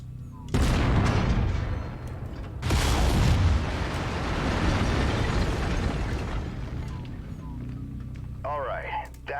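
Mech lasers fire in the MechWarrior 5 video game: two loud, sudden blasts, each followed by a long roaring wash of noise that lingers at high level, with a faint whirring sweep near the end.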